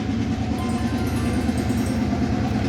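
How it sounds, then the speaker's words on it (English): A train rumbles steadily along the tracks at the Nine Arches Bridge in Ella, Sri Lanka, a continuous low, heavy roar with no voices, staying at an even loudness throughout. "This train is again from Badulla."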